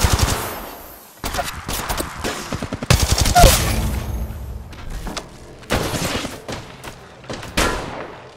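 Automatic weapon fire from an Apex Legends match, loud rapid bursts of shots with heavier booming hits, several separate volleys spread across the stretch, with no talk over them.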